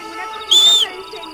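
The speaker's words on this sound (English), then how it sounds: "Most of the time you can just whistle and your horse will come back to you from wherever it's ended up." A player's whistle calling a horse in the western video game Red Dead Redemption: one clear, rising then sustained whistle lasting about a third of a second, loud over a quiet game background.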